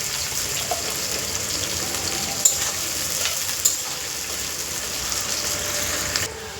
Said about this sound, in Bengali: আমার ডিম করাই আর গাজর খুব ভালো করে ভাজা হয়ে গেছে